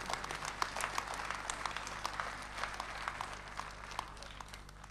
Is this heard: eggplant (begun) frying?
no